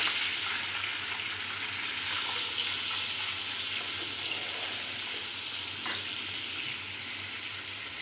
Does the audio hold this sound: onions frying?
yes